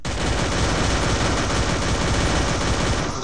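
An MP5 Candy Bunny submachine gun in the Free Fire video game, firing fast in a continuous, dense, loud burst that carries through the whole stretch with no pauses.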